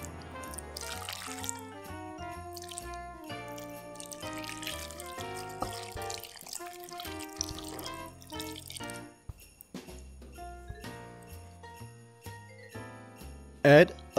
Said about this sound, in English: When the evaporated milk is hot enough, pour it into the chocolate.